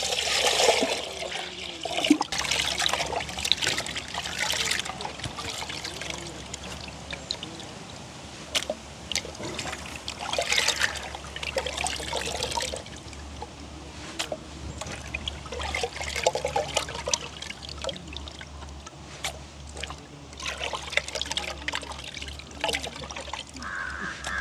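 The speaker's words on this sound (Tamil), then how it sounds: "அதையும் நல்ல வடிவாக கழுவி எடுப்போம் நாங்கள்" Prawns and squid being rinsed in water during village cooking, with trickling and splashing water in bursts throughout, crows cawing in the background.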